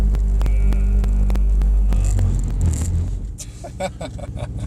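Mercedes-AMG C63S engine on the Mercedes-Benz World race track, a loud, close, steady low rumble and throb that drops off and settles toward a lower idle-like drone near the end, with no talking.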